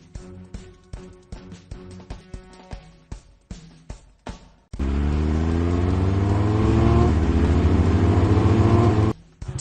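Cartoon fire trucks in a Blaze and the Monster Machines children's game: a series of short engine revs, then a loud sustained roar of trucks accelerating and driving off, cutting out abruptly near the end.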